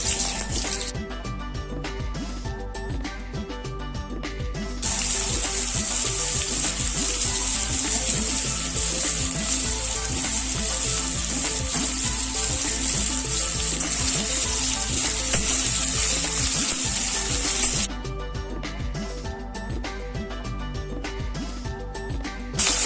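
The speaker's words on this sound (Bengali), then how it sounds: "কেটে রাখা আলু আর ঝিঙেগুলো আমি এবার দিয়ে দেবো" Cut potatoes and ridge gourd fry in hot oil in a pan with green chillies and five-spice seasoning, making a steady, loud sizzle that continues without pause and swells between short gaps of lighter kitchen noise.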